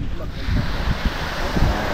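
Sea waves washing onto the beach at Pagudpud, Ilocos Norte, a continuous loud surf roar with rolling low swells and strong wind buffeting the microphone.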